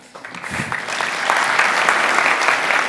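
Clapping from a talk audience swells up after a quiet start and grows into full, steady applause that carries to the end.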